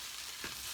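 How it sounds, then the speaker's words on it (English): Black beans fry in a small, overfilled pan, giving a steady low hiss with a brief scrape or stir near the middle; short and fairly faint, with no voices. "So fry that up a bit."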